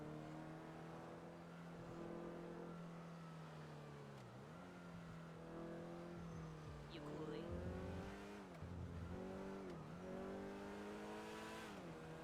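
A small car engine in GTA V Online revs and drones loudly, pitch rising and dipping as it accelerates and slows, with a voice speaking over it.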